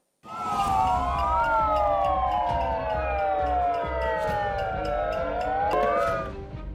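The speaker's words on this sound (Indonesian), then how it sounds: "Mereka juga menyalakan sirine melalui pengeras suara untuk menarik perhatian." Loud wailing sirens sounded through loudspeakers by protesters at a demonstration, continuous and overlapping with sweeping up-and-down tones over steady crowd noise, with no talk.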